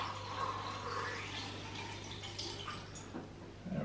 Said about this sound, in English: So I'm going to just start this as soon as I pour in